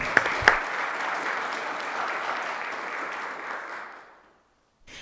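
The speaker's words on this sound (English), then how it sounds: "So can we give them a round of applause" Applause at a town council meeting honoring veterans memorial board members: a room of people clapping steadily at moderate volume, a couple of sharp knocks at the start, fading out near the end.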